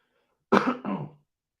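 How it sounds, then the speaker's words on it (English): A single cough followed by a short throat clearing, close and fairly quiet, then silence. "I'm still getting over this cough"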